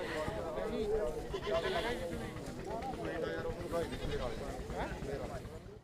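Sheep bleat repeatedly at a crowded rural goat market in Longowal, Punjab, among other livestock, set against steady crowd chatter and voices close by.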